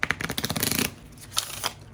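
Tarot cards are shuffled up close in a quick burst of crisp riffling snaps, then a few softer slides and taps of the deck, with no talking.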